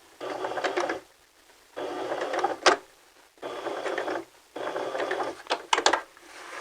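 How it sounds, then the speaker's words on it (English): A sewing machine back stitching a fabric corner runs in four short bursts of whirring stitches with brief pauses between, close by, with light clicks as the work is pivoted. "But first I need to back stitch to secure the corner."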